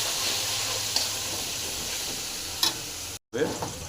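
Mustard seeds and a ground paste fry in hot oil for a bitter gourd pickle, giving a steady close sizzle with a couple of sharp stir clicks and a brief dropout.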